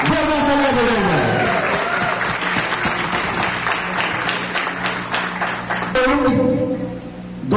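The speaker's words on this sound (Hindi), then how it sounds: "जोरदार तालियां बजाई जाए" Loud, sustained applause from a seminar audience at a Modicare business event, dense and continuous, with a voice carrying over it at the start.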